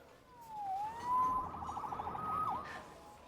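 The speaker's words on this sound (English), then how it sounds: "Saved by the siren." A police siren in the video game Marvel's Spider-Man Remastered wails and sweeps up and down, clear and moderately near, then shifts into a rapid warbling pulse before rising again.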